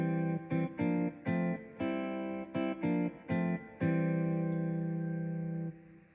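A Yamaha PSR-SX920 keyboard plays back a recorded melody after a step edit, a run of clean, short notes followed by one long sustained tone, heard alone at close range.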